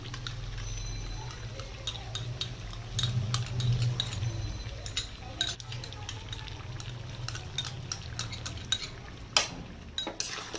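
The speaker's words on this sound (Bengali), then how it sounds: "এবার আমি মশলাগুলোর সঙ্গে এটাকে মিশিয়ে দেবো পুরো টক দইটাকে" A spoon stirs yogurt into spiced mutton in a pan over a lowered flame, with soft repeated scraping and clinking against the metal and a wet, gentle sizzle underneath, fairly quiet and close.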